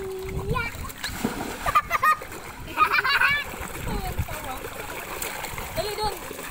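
Splashing from a child swimming in water, irregular bursts up close with children's and adults' voices talking and calling over the top.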